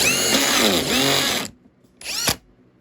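A power drill drives pocket screws into a louver door, a loud whirring burst that rises and dips in pitch, then a short pause and a second brief spin, close by with no talk.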